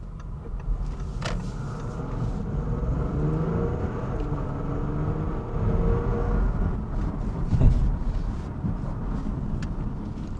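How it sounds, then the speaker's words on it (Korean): An Audi A6 C7 with a 3.0 V6 diesel, tuned with a Racechip, accelerates hard at full throttle, heard from inside the cabin as a rising, muffled engine drone with road roar and a few thumps. "유턴하고 한번 프락셀로 한번 밟아 보겠습니다"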